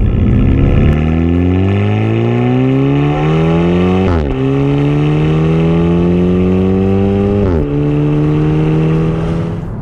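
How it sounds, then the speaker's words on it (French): A Renault Mégane 4 RS 300 EDC with a 1.8-litre turbo four-cylinder and active-valve exhaust accelerates hard and loud nearby, its note climbing steadily through two quick gear changes. "vous laisser savourer ce bruit et cette pétarade derrière moi"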